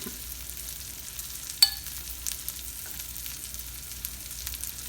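Tomatoes and parsley cook quietly in a pan, giving a faint, steady sizzle with a few soft clinks of stirring and no talk.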